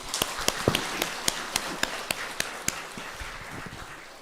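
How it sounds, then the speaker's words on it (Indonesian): A church congregation at a Simalungun-language Sunday service claps in time, sharp evenly spaced claps about twice per second, moderately faint against a roomy background, gradually loosening toward the end. "Kita tepuk tangan lagi"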